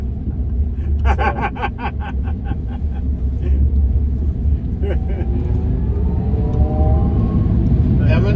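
A Tesla Cybertruck on the move gives a deep, steady road rumble close by, while people talk over it throughout.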